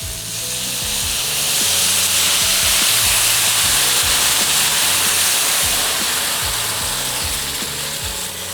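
Beef broth poured into a hot butter-and-flour roux for Salisbury steak gravy hisses with a steady, loud sizzle and steaming rush, a faint low rhythmic knocking running beneath, with no talking.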